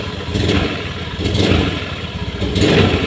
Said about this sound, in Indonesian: sekarang kita hidupkan motornya